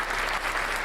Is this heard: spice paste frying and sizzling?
no